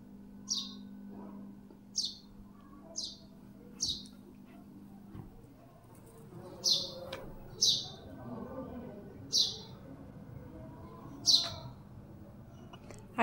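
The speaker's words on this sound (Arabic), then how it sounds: "عايزه اقول لكم قد ايه العصافير فرحانه وقد ايه ماليه الشارع" Small birds chirp in a city street, sharp high tweets repeating every second or so across the stretch, fairly close and clear over a low background hum of traffic.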